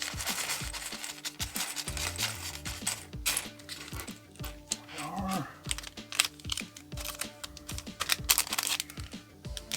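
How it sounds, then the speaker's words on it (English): Crinkly plastic bags from a LEGO set rustle and tear in short bursts, with scattered clicks and taps close by. "we'll pop open both of these bags here"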